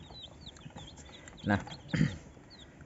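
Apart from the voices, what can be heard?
chickens clucking on a poultry farm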